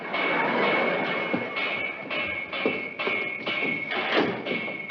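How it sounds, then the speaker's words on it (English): Banging on water pipes in an upstairs apartment: a series of dull, irregular thumps and knocks resounding through the building over a constant hum, fairly close. "Will you stop that banging up there?"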